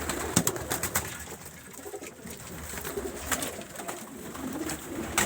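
Pigeons coo over and over in a pigeon loft, close and fairly loud. Wing flaps and rustling come and go through the soft, constant chorus, and no voices are heard.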